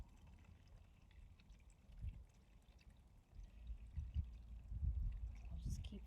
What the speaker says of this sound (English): let's add a little bit more water to our side of our Tupperware.